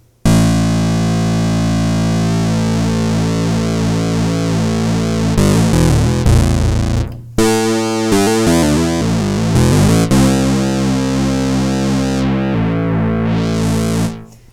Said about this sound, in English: now I also bring in the pulse width modulation.